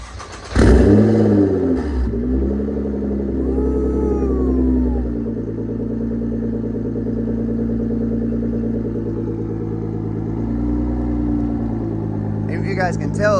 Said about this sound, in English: All right, here we go with the cold start.